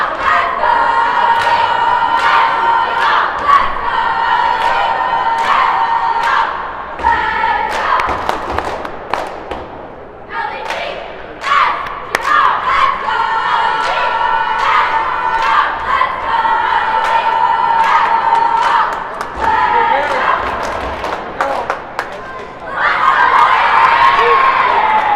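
A high school cheer squad cheers at a Bartlett basketball game, loud sustained crowd noise with shouts, whoops and repeated thumps filling the gym throughout, briefly dipping before swelling again near the end.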